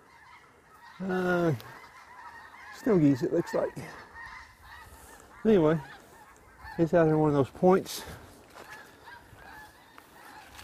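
Geese honk in repeated bursts of loud, nasal calls over a calm Kansas lake trail at Elk City State Park, with quieter stretches between. Someone speaks briefly between the calls.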